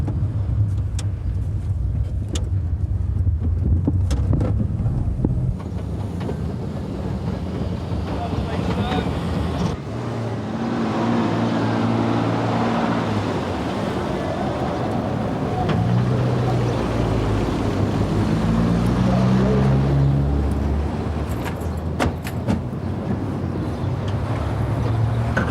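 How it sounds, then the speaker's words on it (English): A tow truck engine drives up, a steady rumbling motor drawing nearer, with wind noise over the microphone and no talk. "Mr. Fordham, complete with tow truck"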